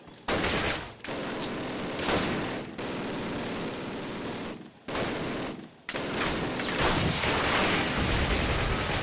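Dense bursts of video game gunfire: loud, continuous rattling volleys broken by short gaps, with rapid automatic fire layered over heavier shots.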